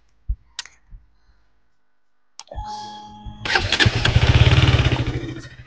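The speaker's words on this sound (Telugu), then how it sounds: "జస్ట్ 1 to 2 minutes వరకు ఇంజన్ స్టార్ట్ చేసి అయితే పెట్టేద్దాం" A KTM RC BS6 motorcycle during an engine oil service: a few faint clicks, then the engine cranks and catches, settling into a loud, steady running idle, close and alone.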